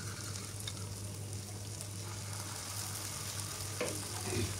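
Chicken pieces fry in a pan with a continuous, even sizzle and crackle, with a few faint stirring scrapes and no talk.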